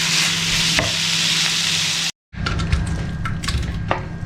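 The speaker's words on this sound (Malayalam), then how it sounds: "ഈ ഇറച്ചിയുടെ ടെക്സ്ചർ മാറുന്നവരെ നമുക്കൊന്ന് വഴറ്റി കൊടുക്കാം." Meat sautés in a hot pan for a Ramadan nombu kanji: a loud, close, continuous sizzle with scraping stirs and occasional crackles. A brief silent break splits the frying, which then resumes with sharper clicks of the spoon.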